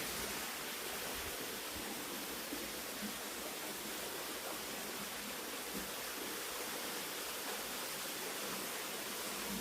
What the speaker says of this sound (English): Only the sound of waterfall, very rhythmic sound